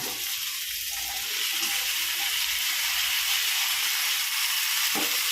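Potatoes tossed into a hot pan for a Tamil-style potato thokku, frying with a steady, close sizzle and hiss that builds slightly and holds throughout, with a faint tap near the end.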